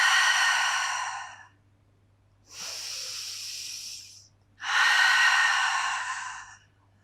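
Three slow, deep breaths during a Pilates mat session: a long breathy exhale, a softer drawn-in inhale, then another strong exhale, each close and clearly audible against a quiet low hum.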